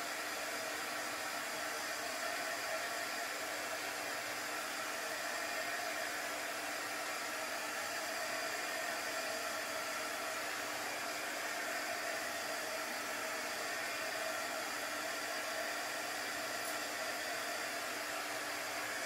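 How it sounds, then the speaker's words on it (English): A hair dryer blows a steady, unbroken whoosh close by for nearly twenty seconds, drying a chalk paste craft piece with a blue hanky design, with no talking. "So I'm just drying this so it's dry before I put on the last piece."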